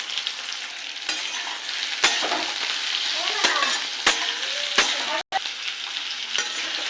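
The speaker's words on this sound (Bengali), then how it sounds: "এটাকে একটু ভেজে নেব" Chopped onion and long-cut potato fry in hot oil with whole cumin in a wok, giving a steady loud sizzle broken by several sharp scrapes of a stirring spatula, with no voices.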